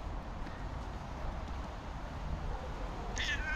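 A cat meows once briefly near the end, outdoors in the sun, over a steady low rumble of wind or distant traffic.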